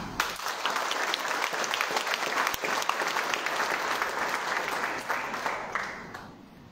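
An audience claps continuously, a full steady wave of applause that gradually thins and fades out near the end.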